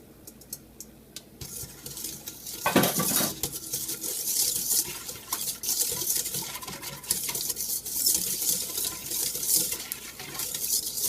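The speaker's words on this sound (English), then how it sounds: "Now I'm going to whisk in the ½ cup of vegetable oil." A whisk works half a cup of vegetable oil into a homemade granola mixture in a bowl, producing a close, continuous busy scraping and clinking that grows louder after a softer start.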